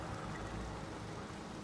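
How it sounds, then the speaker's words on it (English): Steady rain in the video game Elden Ring, a dense, even hiss of falling drops, soft and continuous with no voices. "Started raining regular."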